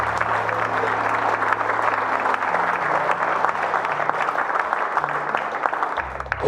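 A church congregation applauds during a sermon, a dense steady clapping that fills the space for several seconds before it thins out and fades at the end.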